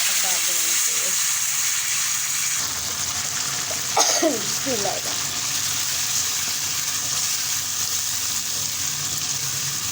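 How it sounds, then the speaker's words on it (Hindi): Masala paste hitting hot ghee for camel meat karahi, giving a loud, continuous sizzle and hiss throughout with a brief splatter burst in the middle and a voice faintly underneath. "घी मेरा हो गया गर्म, बिस्मिल्लाह डाल देना"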